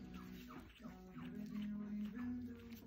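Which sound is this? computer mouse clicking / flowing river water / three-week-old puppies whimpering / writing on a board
three-week-old puppies whimpering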